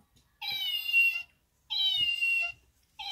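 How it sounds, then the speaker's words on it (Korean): A house cat meows twice in clear, drawn-out calls separated by a pause, with the start of a third at the very end, close and fairly quiet against a silent room. "고양이가 울고 있어요."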